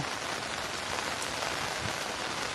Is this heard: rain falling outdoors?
yes